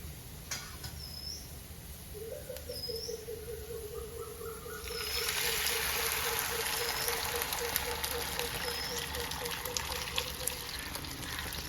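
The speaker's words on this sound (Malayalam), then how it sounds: "ഇലിമ്പൻപുളി ഒഴിച്ചു കൊടുക്കാം" Bilimbi (irumban puli) poured into a hot pan of fried ingredients, with a loud hiss that rises midway and stays steady to the end.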